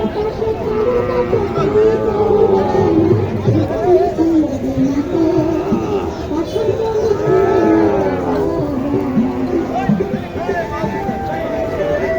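Cattle at the Matajee cattle market in Naogaon, lowing and mooing several times amid a steady hubbub of crowd chatter, with people talking nearby throughout.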